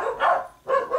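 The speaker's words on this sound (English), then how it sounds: "And my dogs are barking, because they're idiots." Dogs at home bark twice in quick succession, loud and close, with no talking.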